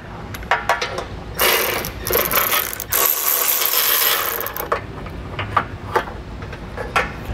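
A ratchet with an extension works bolts loose under a 2022 Subaru during a hidden trailer hitch install, with rapid clicking bursts, metallic taps and brief clinks, close and alone.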